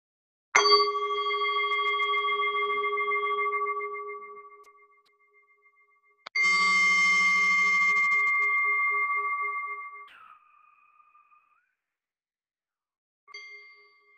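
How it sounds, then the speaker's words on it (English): Meditation chimes closing a mindfulness body scan practice ring out in clear, sustained metallic tones, a long ringing strike that fades, a second bright strike with rich overtones, then a short third tap, with no talking. "we'll now end the practice with sounding the chimes 3 times"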